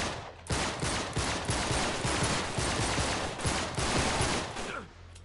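Rapid bursts of gunfire in Uncharted 3, loud and sustained with dense overlapping shots and a few heavier impacts, continuing for several seconds without talk.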